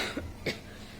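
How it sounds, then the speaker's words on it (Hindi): A person coughs twice in quick succession, close and fairly loud, with a short quiet gap between the bursts and faint room tone after. "मुझे खांसी आ रही है"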